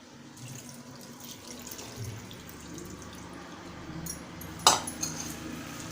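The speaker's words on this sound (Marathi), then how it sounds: "पाण्याने स्वच्छ धुवून घेऊया।" Fresh fenugreek leaves are washed in water, with soft splashing and trickling throughout, some light clinks of a bowl, and one sharp knock of utensil near the end.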